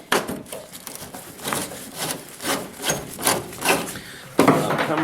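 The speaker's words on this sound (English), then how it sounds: "Now if I turn this screw" Screw being turned out of wood on a pop-up camper, a series of rhythmic creaking, grinding rubs close up, ending with a sharper scrape.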